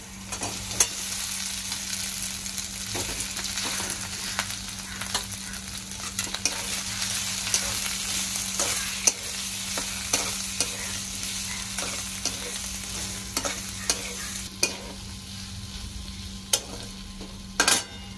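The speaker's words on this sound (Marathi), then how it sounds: "मिरची आपली चांगली परतली, आता बटाटे टाकून घेते।" Potatoes with green chillies fry and sizzle steadily in a pan, a constant close hiss broken by frequent scraping clicks of a spoon stirring, no voices.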